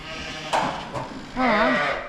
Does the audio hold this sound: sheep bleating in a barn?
yes